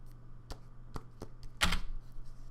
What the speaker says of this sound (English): Oops, I done hit my keyboard with it.